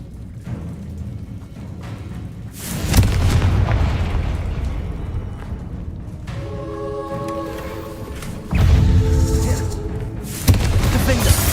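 Repeated Confringo explosion spells burst in Hogwarts Legacy, three or four heavy booming blasts with roaring, crackling tails separated by brief lulls, set amid busy game combat noise and tonal spell effects.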